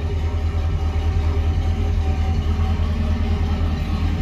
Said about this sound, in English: That Camaro sounds so good.